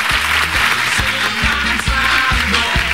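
Studio audience applause on an Italian television program, greeting a newly crowned national champion: dense, steady clapping at close range that fills the whole moment, with a low rhythmic pulse running beneath it.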